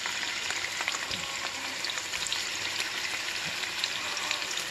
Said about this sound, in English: I'll put a little oil in my fry pan.